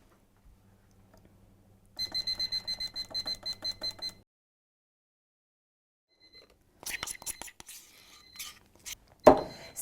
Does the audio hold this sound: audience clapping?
no